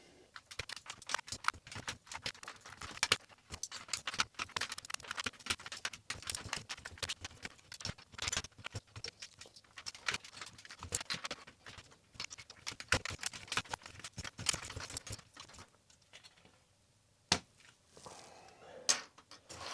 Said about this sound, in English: So let's start by pulling all the keycaps off